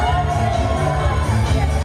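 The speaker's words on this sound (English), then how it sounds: "From cheers and applause inside the convention center" A crowd inside a convention centre cheers and whoops loudly and steadily for about two seconds, a dense roar of voices that cuts off sharply at the end.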